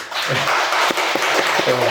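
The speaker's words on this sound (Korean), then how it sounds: "최대한 열렬한 박수로 한번 축하를 합시다" Congregation in a church applauding to congratulate newly ordained deacons and deaconesses at a service, with steady dense clapping filling the room throughout.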